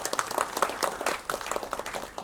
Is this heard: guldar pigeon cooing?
no